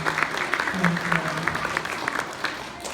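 A school audience at a 2016 character award ceremony claps for an absent student, dense steady applause with a few voices murmuring underneath.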